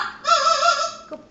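An Amazon parrot, indoors at bedtime, gives a single drawn-out tonal call lasting about a second, close to the microphone, with no talking.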